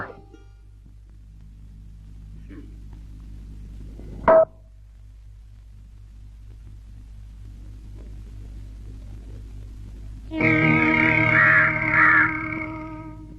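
A crow caws in a loud, harsh burst of calls near the end, after a mostly quiet stretch with a low hum and one sharp knock.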